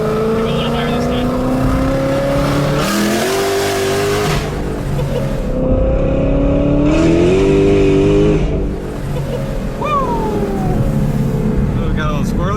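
A 1100-horsepower Shelby GT500 on its stock engine revs hard in repeated rising pulls, a loud, close, screaming engine note that climbs, drops back and climbs again, with a voice talking over it.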